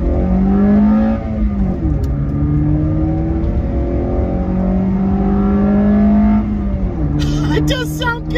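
A car fitted with a performance air filter accelerates along a dual carriageway, its engine note climbing steadily through several gears with drops at each shift, heard from inside the cabin.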